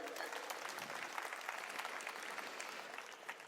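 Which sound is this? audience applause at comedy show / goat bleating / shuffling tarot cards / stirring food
audience applause at comedy show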